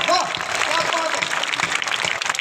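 A crowd at an all-India kavi sammelan at a Mahashivratri fair in Chhabra claps in a steady, dense wash of applause, with voices mixed in beneath it.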